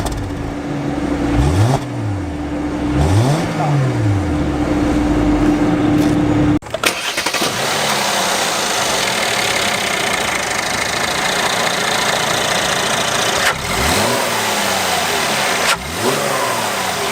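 A 2016 Mercedes-Benz E350 4Matic with a 3.5 V6 revs at idle in a series of rising and falling blips. After a sharp break, a louder, steady engine roar follows, with further swells near the end.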